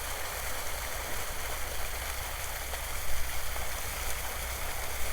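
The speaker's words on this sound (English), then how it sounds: "So a nice little waterfall here." A small waterfall along a creek in Regina pours with a steady, close broadband rush of falling water that stays even throughout, with no voices.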